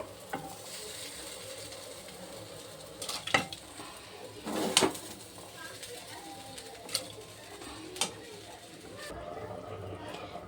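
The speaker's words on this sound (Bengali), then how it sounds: "এবারে চালগুলো দিয়ে দেবো" Rice tipped into spices frying in a pan, giving a soft continuous sizzle with a few sharp clinks and scrapes of stirring, fairly faint and close, with occasional speech.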